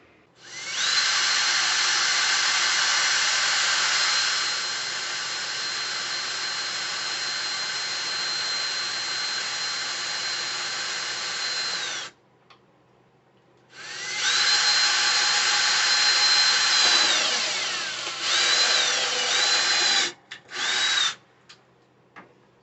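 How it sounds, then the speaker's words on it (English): A power drill bores into a plastic enclosure, a loud, steady high whine that runs for about twelve seconds, stops, then resumes in a second long burst and a few short final spurts, close-up with no talking. "You want to let the drill do its work and just kind of let gravity move the drill down"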